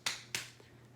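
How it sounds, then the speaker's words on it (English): Two sharp, close finger snaps ring out about a quarter second apart, followed by a fainter third click, all alone and crisp. "I could snap my fingers"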